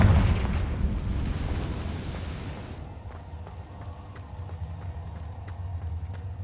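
A Confringo fire spell bursts in Hogwarts Legacy, a loud booming explosion at the start that decays into a rumbling tail with scattered crackles and small pops as it fades.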